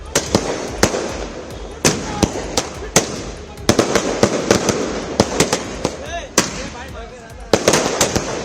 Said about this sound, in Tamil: கூடிய தொண்டர்கள் பட்டாசு வெடித்து தங்கள் மகிழ்ச்சியை வெளிப்படுத்தினர்